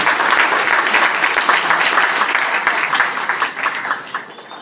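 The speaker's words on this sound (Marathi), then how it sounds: "या 7 लोकांच्यासाठी आपण एकदा टाळ्या वाजवूया" A seated audience at an inauguration ceremony for a two-storey senior citizens' association building in Pimpri Chinchwad applauds, with dense, steady, loud clapping from many hands that thins slightly toward the end.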